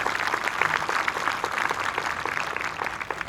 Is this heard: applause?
yes